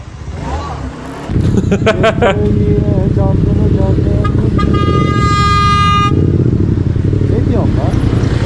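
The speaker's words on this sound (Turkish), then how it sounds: "Bir de o korna çalıyor." A car horn blares in a long sustained honk over loud engine and road noise, with short toots before it and a voice talking briefly.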